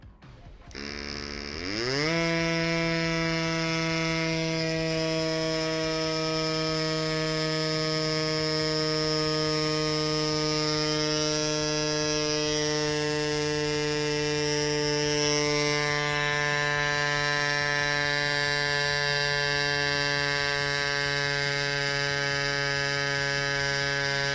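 Cycplus Cube electric mini pump inflating a large bicycle tire, its small motor starting with a quick rising whine and then holding a steady, loud, buzzing drone throughout, with no talking.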